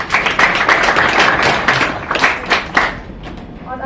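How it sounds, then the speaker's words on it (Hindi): Students applaud their classmates at a school motivational session, a dense spatter of claps that swells and fades in uneven waves for several seconds before thinning out. "तालियां बजाइए इनके लिए।"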